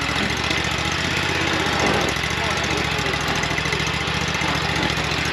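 A riding lawn mower engine runs along an overgrown fence line, producing a steady, loud mechanical drone with a constant throb and no real change in pitch.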